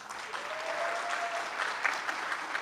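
Audience applause for students at a school speech-competition final, a steady wash of many hands clapping at moderate distance with a faint voice briefly rising over it.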